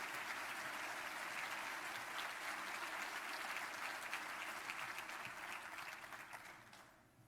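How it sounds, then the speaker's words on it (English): Sustained audience applause at an evening school ceremony honoring teachers and employees, a dense, even wash of many hands clapping at moderate distance that fades out toward the end. "Please welcome them and give them a warm round of applause."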